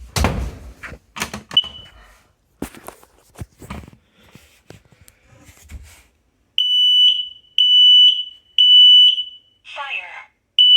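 A household smoke alarm under test gives a run of loud, shrill electronic beeps in repeated bursts after some shuffling, footsteps and talk, and a few voice-like alert sounds follow.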